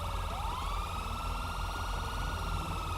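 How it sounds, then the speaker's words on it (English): Police car siren in the game GTA 5, a loud continuous wailing tone that sweeps up and holds steadily, filling the whole stretch over a dense background of rain and engine noise. "Turn off the sirens."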